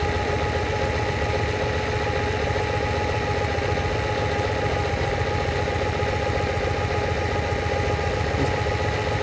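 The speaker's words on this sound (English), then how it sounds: "I'm now going to go around the mixtures and we can hear the tone of the engine change" Lamborghini 350 GT engine idling during restoration while its carburettor mixtures are adjusted, a steady, even mid-pitched hum with a fine rapid pulse, moderately loud and unbroken throughout.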